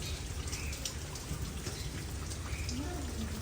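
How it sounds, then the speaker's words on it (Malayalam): Steady heavy rain hisses continuously on surfaces, a dense wash of patter filling the whole scene at moderate loudness. "നല്ല മഴയത്താണ് ഈ വീഡിയോ എടുക്കുന്നത് കേട്ടോ"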